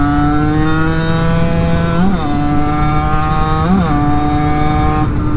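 A small 50cc motorcycle engine revs and accelerates continuously up close, its buzzing pitch climbing then dipping briefly twice as it shifts gears before pulling on again.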